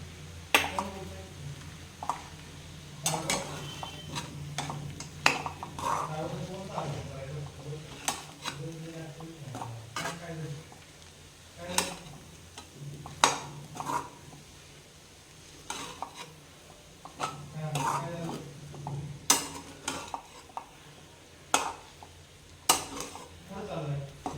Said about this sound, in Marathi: शेंगदाण्याचा कूट करून घेतला होता ते घालून घेऊ आणि तोही छान परतून घेऊया